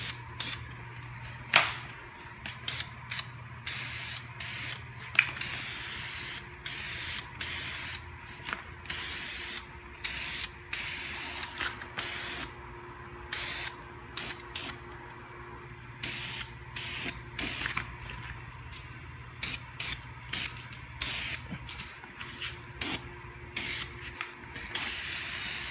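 An aerosol can sprays top coat onto a Honda Prelude Si molding, with short hissing bursts repeated in a steady stop-start rhythm, close and fairly quiet, over a low background hum.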